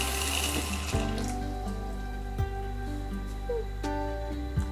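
Water poured over rinsed black beans for Cuban black beans, with a short rushing pour at the start that fades into a quiet, hum-filled kitchen with a few faint knocks.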